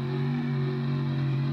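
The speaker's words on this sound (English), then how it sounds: "Oh, that's the sound of my car that I made." Custom-built car in BeamNG.drive, its engine holding a steady, buzzy rev with strong tonal harmonics, close and fairly loud, with no voices.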